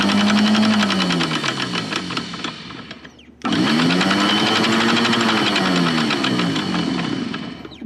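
A Maxwell RC-10 anchor windlass motor runs on test with a loud buzzing, rattling mechanical drone that slows and winds down, pauses briefly, then starts up again and runs steadily to the end.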